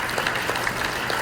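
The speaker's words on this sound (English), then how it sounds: "Round of applause, guys" A conference audience applauds as company CEOs are welcomed on stage, a dense steady wash of clapping, moderately loud, with no talking over it.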